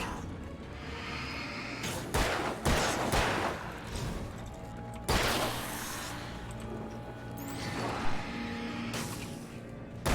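Gunshots in Alan Wake crack out as a few loud, separate blasts, each followed by a brief swooshing tail, over a low ambient rumble and scattered thuds.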